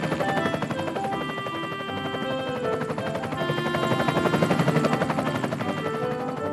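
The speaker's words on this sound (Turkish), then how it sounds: "Aa, bu ses de ne? Bu bir helikopter." Continuous cartoon helicopter rotor thumping with a steady whirring drone, fairly loud and swelling slightly toward the end, with no voices.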